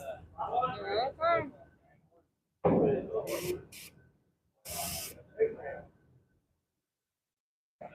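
An air compressor lets out short, sharp bursts of hissing air in a workshop during a Peterbilt truck build, with people talking before and between the blasts.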